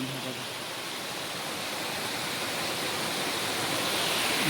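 Water rushing through a dam spillway, a loud, continuous broadband roar of falling water heard close, growing slightly stronger toward the end, with no voices over it.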